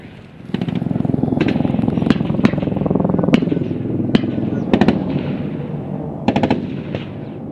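Sporadic gunfire in a battle between soldiers and insurgents in dense undergrowth, sharp shots and short bursts at irregular intervals over a low rumbling background.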